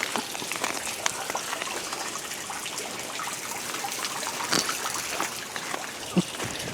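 Meltwater trickles and drips through melting ice outdoors on a cold, icy day, a steady soft gurgle with scattered sharper drips, close by and fairly quiet throughout.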